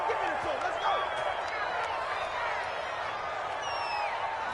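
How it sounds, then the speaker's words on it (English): A stadium crowd in a PS4 football video game reacting to a penalty call, a broad sustained roar with whistles and shouts, alongside commentator-style talk. "Well, this crowd does not like that call."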